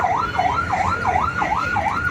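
An ambulance siren wails in a steady rising-and-falling cycle, loud and close, over a low rumble of heavy traffic on a congested Chennai street.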